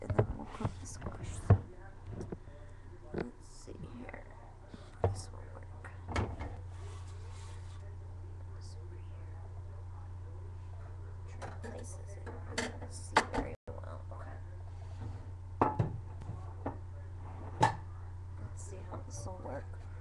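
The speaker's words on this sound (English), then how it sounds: "I'm going to start by cutting my squash in half" A knife cuts an acorn squash in half on a board, giving sporadic sharp thumps, cracks and scrapes over a low steady hum, with some talking nearby.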